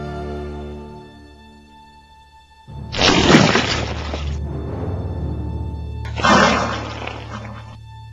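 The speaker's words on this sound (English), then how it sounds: "More plaster fell." Plaster crashes down and shatters in two loud, separate bursts of breaking debris, each lasting about a second and a half, over a steady low hum.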